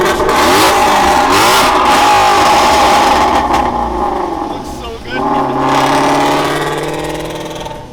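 A car with a Voodoo V8 engine revs hard and screams at high RPM up close, loud sustained bursts that dip briefly and then climb again, while someone talks excitedly over the engine.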